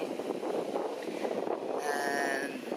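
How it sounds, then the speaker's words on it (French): Strong wind buffets an outdoor microphone, a steady rumbling roar that runs through the whole stretch, with a faint higher whine and some brief tonal sounds near the end. "il y a vachement de vent, donc ça ne va pas être possible"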